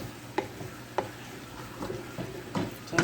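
Collard greens with garlic cook in a pot, giving a soft steady simmer and sizzle with a few sharp clinks and stirring knocks scattered throughout, close and moderately loud with no talking.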